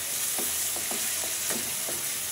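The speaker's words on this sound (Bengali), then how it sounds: "আমার পেঁয়াজটা নাড়াচাড়া করতে করতে দেখুন সফট হয়ে আসছে।" Onions frying in a pan for a chicken curry sizzle steadily while a spoon stirs them, giving several short scraping strokes at an even pace, close and clear with no talking.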